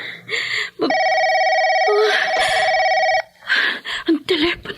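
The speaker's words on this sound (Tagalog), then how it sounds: "Ang telepono." A telephone rings with a sustained electronic trill lasting over two seconds, loud and close, while people talk right before and after it and briefly over it.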